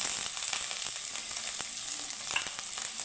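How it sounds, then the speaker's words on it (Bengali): Chopped onion and green chili sizzle steadily in hot oil, a dense close crackle with occasional sharper pops and faint stirring, no voices over it. "এখানে আমার তেলটা গরম হয়ে গেছে এখন আমি দিয়ে দিব কুচিয়ে রাখা পেঁয়াজ আর দিয়ে দিব সাথে কাঁচা লঙ্কা কুচি"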